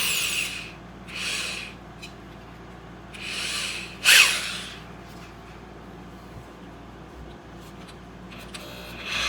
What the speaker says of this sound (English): I'm going to just use a drill and zip it on there real quick.